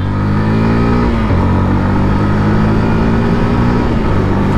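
Loud, close exhaust note of a Yamaha FZS-FI V3 Vintage Edition motorcycle, a heavy grunting rumble that rises and dips in pitch across two blips of the throttle, with no voices over it.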